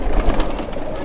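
Shami pigeon with red eye rings making soft cooing and rustling sounds close by, with steady low background noise and no talk.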